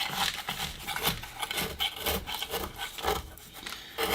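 A metal scraper is drawn around the inside edge of a bonsai pot holding a Natal ficus to loosen roots, making a steady, close rasping scrape with repeated strokes and no talking.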